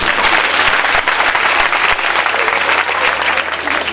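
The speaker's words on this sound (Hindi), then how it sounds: "बजाओ तालियां" A large audience claps loudly and continuously at a religious gathering announcement, dense applause held at full strength from start to finish.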